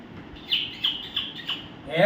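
A person mimics a parrot with a few short, shrill chirping squawks in quick succession, close and fairly loud, ending on a rising cry.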